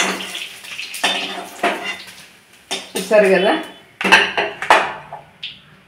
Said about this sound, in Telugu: బౌల్లోకి ఇవన్నీ ట్రాన్స్ఫర్ చేసుకుంటున్నాను